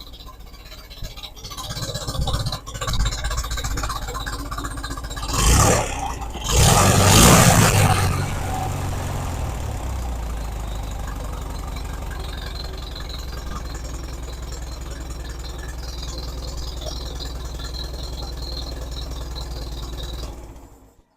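A Farmall Super A tractor engine runs close by, with two louder revving surges early on before settling into a steady, rough idle that continues until it cuts off abruptly at the end.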